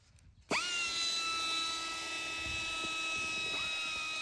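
A Harbor Freight carbide burr in a high-speed rotary tool grinds into an aluminum intake manifold during porting, a steady loud whine that starts abruptly after a quiet moment and holds throughout.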